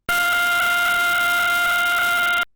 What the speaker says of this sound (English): If it made a noise every time we got a pulse from it, it would sound like this.